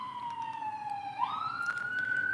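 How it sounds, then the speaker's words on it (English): A police car or ambulance passes with its siren wailing. The tone is faint to moderate in level, sweeps gradually, then jumps to a higher pitch, heard alone without talk. "I think that's a police or maybe an ambulance truck that's passing"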